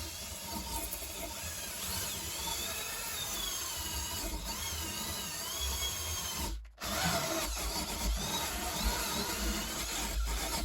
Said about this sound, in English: I'm going to use a wire wheel on a drill to try to scrape most of the rust off